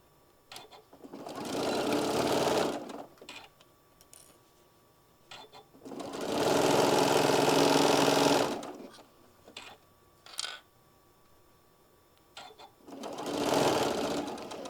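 A sewing machine stitches fabric along a quarter-inch seam in three steady runs of a couple of seconds each, close by, with a few clicks and quiet gaps between runs.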